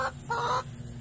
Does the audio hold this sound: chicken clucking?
yes